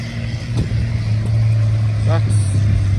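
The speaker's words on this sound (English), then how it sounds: "McCormick Deeren tractor" An old McCormick-Deering tractor engine runs at a steam rally with a low, steady idle hum close by, while people talk over it.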